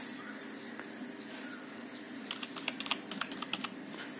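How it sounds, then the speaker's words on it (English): Typing a password on a computer keyboard during Windows user account setup: a quick run of light key clicks in the second half, close and fairly soft over a faint room hum. "you want to type the password"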